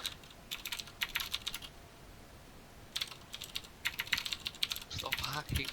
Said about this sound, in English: Bit loud of a keyboard.